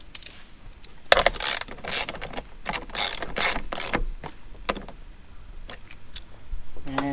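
A ratchet wrench with a 13mm deep socket tightens a battery earth terminal nut on a 200 Series dual battery install, a close run of quick clicking pawl bursts, fairly loud, with no talk.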